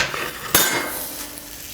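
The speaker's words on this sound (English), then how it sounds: "Ooh, it's sizzling." A pepperoni and sausage pizza sizzles as it lands on a hot soapstone pan in a compact oven, with a sharp scraping slide and a soft hiss fading briefly.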